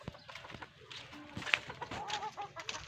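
Hens cluck softly at a distance over a rustling farmyard background, with a few short squawks and scattered clucks.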